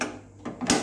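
A gas stove is switched on in a home kitchen: a short mechanical click, then a brief burst of hiss as the burner catches, close and fairly quiet, with no talking.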